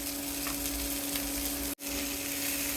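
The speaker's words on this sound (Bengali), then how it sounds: "পেঁয়াজটা একটু ভেজে নিব" Chopped onions fry in oil in a pan, making a constant close hiss of sizzling with a faint steady hum beneath and one momentary cut to silence near the end.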